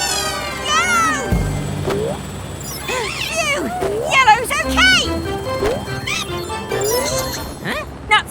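A cartoon cat gives several high, bending meows over a busy children's cartoon soundtrack with music and effects, mixed with spoken voices.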